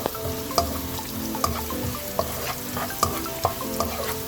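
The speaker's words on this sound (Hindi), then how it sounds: "लहसुन अदरक हमारा फ्राई होना शुरू हो गया है।" Steady sizzle of garlic and ginger frying in hot oil, with periodic clinks and scrapes of a spoon stirring the pan, close by.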